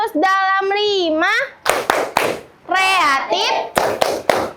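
A class of schoolchildren does a rhythmic spirit clap, their sung chant interleaved with sharp, loud bursts of hand claps in a patterned rhythm.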